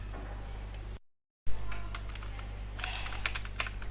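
Rapid keyboard typing on a computer, a cluster of close clicks that starts after a brief dropout and grows denser toward the end over a steady low hum, with no one talking.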